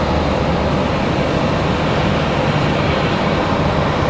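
Steady, loud roar of an Embraer E175 jet airliner taxiing at Raleigh-Durham International Airport on a stormy day, a continuous broadband rumble and whine with no talking.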